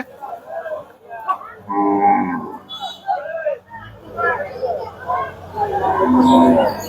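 Cattle at a large rural cattle market in Bangladesh give several loud, drawn-out moos, close by and overlapping, with people talking in the background.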